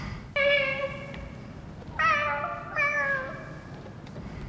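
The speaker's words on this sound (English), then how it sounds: "There was a cat." A cat meows three times, clear and close, each cry drawn out and tonal, over a low background hum.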